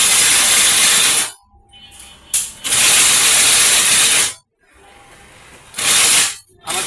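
A GI wire net making machine runs in loud mechanical bursts, rattling and clattering for a second or two at a time, then pausing into quieter gaps before starting again.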